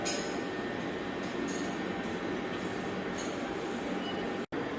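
Steam locomotive Tornado running on the main line at Stewart's Lane, a loud, continuous close rumble and roar with hissing and faint metallic clinks, broken by a brief dropout near the end.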